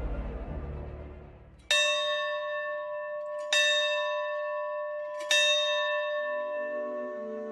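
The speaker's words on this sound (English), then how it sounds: "Every day at noon, a bell is rung in the cathedral." A cathedral bell salvaged from the World War II warship HMS Liverpool tolls at noon, three loud, clear strikes about two seconds apart, each ringing out and slowly decaying with no voices.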